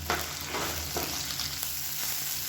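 Onions and chillies sauté in a pan with salt and a little tamarind, a steady close sizzle and crackle with faint stirring scrapes throughout and no voices.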